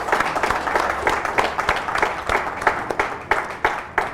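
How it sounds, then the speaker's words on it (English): An audience applauds panelists at the close of a summit discussion in Kigali, with steady dense clapping and sharper individual claps standing out, loud and continuous throughout. "A round of applause for our panelists."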